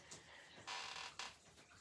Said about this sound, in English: that's my stool squeaking. I still haven't put any WD-40 on it.